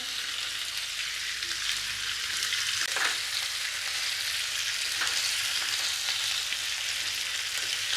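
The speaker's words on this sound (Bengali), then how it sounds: "আর দিয়ে দেব গাজর কাটা এবার এইগুলোকে দিয়ে একটু নেড়ে চেড়ে নিই টমেটোর কুচিটা দিয়ে দিলাম" Chopped carrots and tomato hiss steadily in hot oil, with a couple of distinct stirring scrapes breaking through the continuous sizzle.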